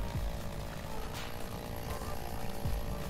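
A steady, droning chainsaw engine in Lumberjack's Dynasty, running continuously at a moderate, somewhat distant level without pauses.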